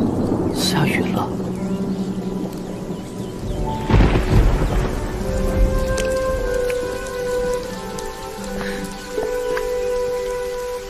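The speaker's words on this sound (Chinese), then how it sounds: "下雨了。" Rain in an animated scene falls steadily on surfaces while thunder rumbles loudly early on, under a soft exchange of voices between two people.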